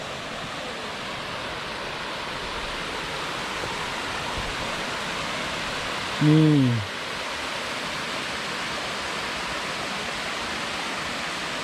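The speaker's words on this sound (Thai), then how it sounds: "มีน้ำตกลงมาไม่เยอะวันนี้ไม่เยอะนะครับ" A modest waterfall at Pha Daeng campsite rushes as a constant broadband hiss, steady throughout, with one short spoken word briefly over it midway.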